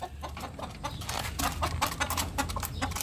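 Chickens cluck and scramble nearby as they are fed, with busy overlapping short calls and pecking over steady outdoor background.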